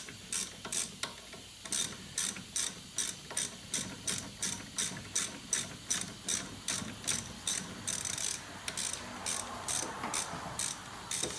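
Rapid ratchet clicking in steady bursts as a ratchet with an extender loosens a bolt on a Ford Escape during wheel bearing work, close and fairly loud, with brief pauses between strokes and no talk.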